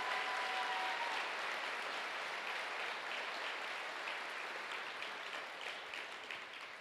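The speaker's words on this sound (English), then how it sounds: "round of applause for Morgan and Spray Lake's family." A high school graduation audience applauds in a large hall, a broad, sustained wash of many hands clapping at once that slowly fades.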